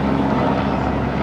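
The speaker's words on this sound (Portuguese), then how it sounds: "Heli-helicóptero!" A helicopter flies overhead with a loud, steady rotor and engine roar that fills the short moment without any talk.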